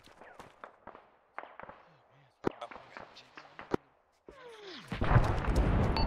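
Mortar shells bursting in Arma 3 combat, a cluster of sharp distant bangs and cracks scattered through the first seconds, then a louder rolling roar of blasts building to the end, with voices talking over the battle.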